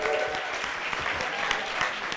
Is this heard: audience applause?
yes